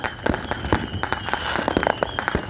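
Large fireworks show on the Washington–Oregon coast, heard from about fifty yards away as a rapid irregular string of sharp cracking bangs over a steady background rumble.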